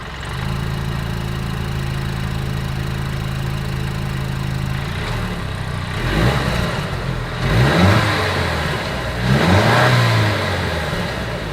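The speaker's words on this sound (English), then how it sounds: "As always, here is that exhaust clip." A 2023 Mercedes-Benz E 350 sedan with dual exhaust idles with a low steady hum, then is revved three times, each blip swelling and falling back, heard close to the tailpipes with no talking.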